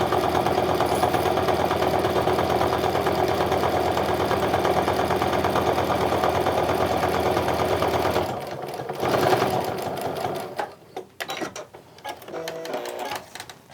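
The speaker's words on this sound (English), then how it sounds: "Now I'm going to do a stitching line a 1/4 inch away from this edge" A sewing machine runs steadily, stitching a line of fabric for a handmade wallet, loud and continuous for about eight seconds before stopping, followed by a few softer handling clicks and rustles.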